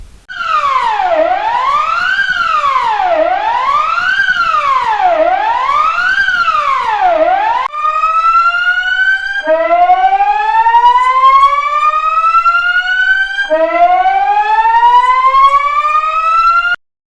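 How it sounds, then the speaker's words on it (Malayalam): A loud wailing civil defense warning siren, tested in Nilambur, Kerala, rises and falls in repeated cycles, then shifts to long, steady rising tones, sounding continuously with no voices. "മുന്നറിയിപ്പ് സൈറണുകളുടെ പ്രവർത്തന പരീക്ഷണം നടത്തി"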